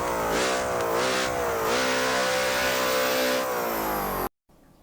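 A Hennessey Venom F5 Revolution hypercar in a video game starts up and revs, its engine note climbing and settling in smooth, loud rises before cutting off abruptly near the end.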